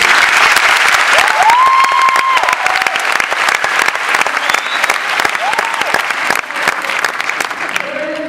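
Lecture audience applauding, a dense, loud wash of clapping sustained throughout, with a few faint voices and whistle-like tones rising briefly within the crowd noise.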